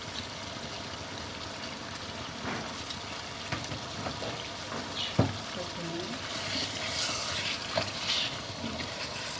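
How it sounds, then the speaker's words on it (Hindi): Masala frying in a pot for aloo gosht made without tomatoes, a steady low sizzle with occasional stirring clinks and scrapes throughout, close and fairly quiet. "मसाला ये हमारा अच्छे से भुन रहा है।"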